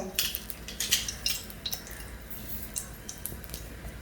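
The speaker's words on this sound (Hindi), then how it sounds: "तो चलिए मैं गुड़ इसमें शिफ्ट करती हूँ" Jaggery being scraped into hot ghee in a kadhai, with soft squishy clinks and scrapes of a metal spoon against the pan, several quick strokes close by, then quieter sizzling and stirring.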